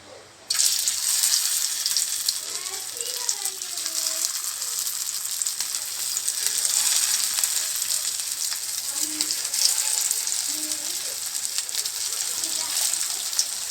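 Fish cutlets laid into hot mustard oil fry with a loud, steady crackling sizzle close by throughout, with a voice faintly audible underneath.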